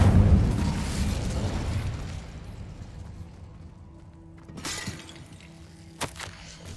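Incendio fire spell cast in Hogwarts Legacy, a loud whooshing burst of flame at the start that fades away, followed by a couple of sharper crackling pops later on.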